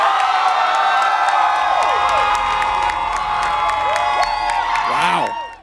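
A studio audience at a blind-date dating show cheers and applauds loudly for contestant number one, with high shrieks, whoops and clapping sustained throughout before cutting off abruptly.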